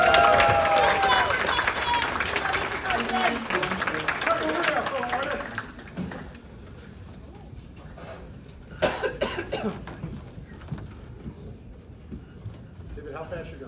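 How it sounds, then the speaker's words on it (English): Short burst of audience applause at a festival session end, loud at first and then fading out, followed by a quieter room with coughs, scattered shuffling and some background talk. "give a round of applause."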